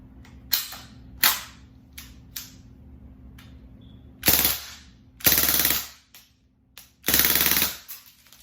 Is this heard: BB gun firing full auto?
yes